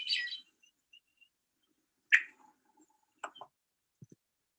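A northeastern songbird sings alone: a clear whistled note, then a short warble a few seconds later and a few soft lower chips, faint and spaced out against silence.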